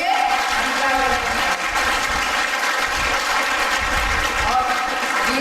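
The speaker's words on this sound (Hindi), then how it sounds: "इसलिए जोरदार तालियों से हंसा बहन" Audience at a spiritual gathering in Fatehabad breaking into loud, dense applause for Hansa Behan, a continuous clapping wash with crowd murmur and some voices underneath.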